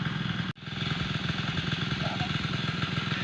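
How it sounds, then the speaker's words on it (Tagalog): A small water pump engine runs steadily nearby on a farm with a constant chugging drone, briefly cutting out for an instant before resuming at the same pace. "bakit po maingay? Mayroon po tayong water pump po dyan."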